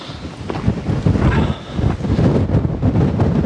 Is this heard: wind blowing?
yes